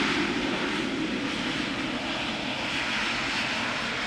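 A British Airways Embraer 190 jet arriving at Amsterdam Schiphol in humid weather, a loud, sustained engine roar and rushing whine of the passing airliner, with no voices.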